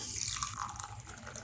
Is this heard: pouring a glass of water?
yes